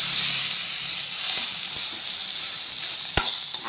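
Tomatoes sizzle and fry in a hot pan while cooking a vegetable tortilla filling, a steady close hiss with faint stirring clicks throughout.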